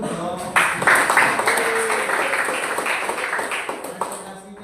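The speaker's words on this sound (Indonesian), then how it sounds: "Tepuk tangan dulu dong." A school class clapping after a student presentation, a burst of close, fairly loud hand claps that thins out gradually, with voices talking underneath.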